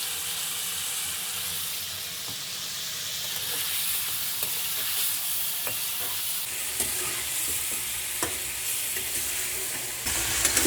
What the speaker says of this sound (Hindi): चिकन के अंदर हम लहसुन को भी अच्छे तरीके से फ्राई करेंगे।